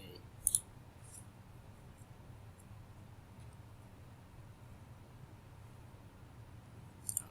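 A computer mouse clicks faintly in a quiet room: a quick pair of clicks near the start and another pair near the end, with soft low hum between them.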